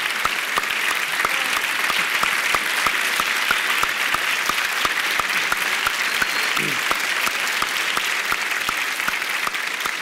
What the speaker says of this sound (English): give a warm round of applause to this year's recipient